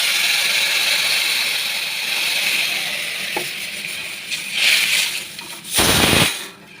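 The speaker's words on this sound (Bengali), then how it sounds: "ভাজা ভাজা হয়ে গেছে, এখন জল দিব।" Hot oil sizzles under fried lentils for masoor dal chorchuri, seasoned with salt, turmeric and green chilli, then water poured in brings a loud burst of hissing near the end.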